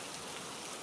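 Rain falls in a steady, even hiss of dense raindrops on a surface, soft and constant for under a second with no voices.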